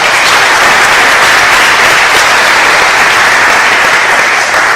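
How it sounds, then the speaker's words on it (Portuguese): Church audience at a youth camp service applauding, a dense, loud, continuous wash of clapping from many hands throughout. "Você pode dar uma aplauso ao Senhor por isso?"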